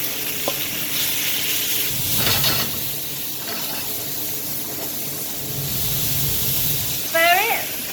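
Food sizzling in a hot pan with paprika in a cooking-school kitchen: a steady frying hiss with scraping stirs, and brief speech in between.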